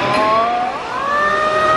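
A modified motorcycle with a 190cc engine revs up, a loud close rising engine whine that climbs steadily in pitch without pause.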